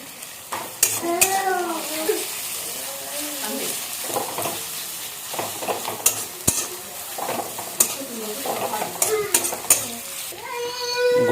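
Onions fry in a pot with cinnamon, cloves and three cardamom pods for chicken kosha. A close, steady sizzle is broken by repeated utensil scrapes and clinks, while a person talks over it throughout.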